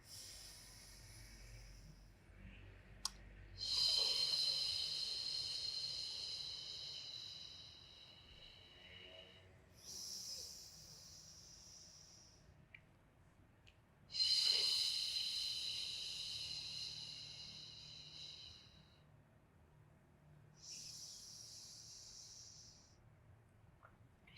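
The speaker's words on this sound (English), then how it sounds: "Exhaling through the mouth." Slow, deep breathing during a beginner Pilates workout: several long, airy breaths, each lasting a few seconds and separated by pauses, sounding close and soft.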